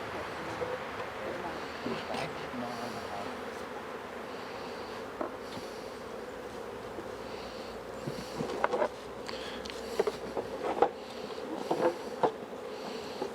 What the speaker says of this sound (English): they got good bee numbers up here too